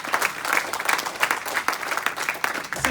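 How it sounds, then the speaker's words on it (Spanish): Church congregation applauding during a Spanish-language sermon, a dense, steady burst of clapping filling the space with uneven pulses throughout. "Denle un aplauso fuerte a Cristo Jesús."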